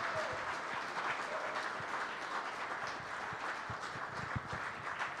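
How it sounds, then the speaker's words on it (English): Applause for Green Bay Packers defensive lineman Rashan Gary as a guest at a live sponsored fan show, a steady, faint wash of clapping from a distant crowd that holds evenly throughout. "give a big round of applause"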